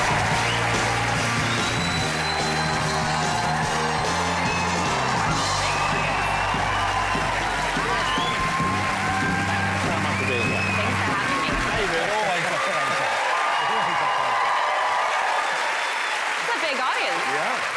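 A studio audience at a television talk show cheers and applauds loudly with whoops and yells while music plays, then the crowd noise dies away as a host begins speaking.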